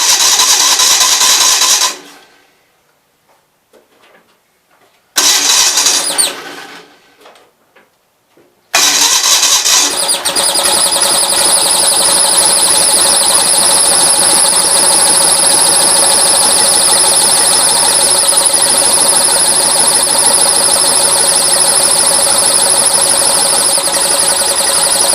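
Newly built 450 engine cranks and catches twice with a squeal, cutting out between tries, then fires up and keeps running loud and close, holding a steady roar with a persistent high whine throughout and no talking.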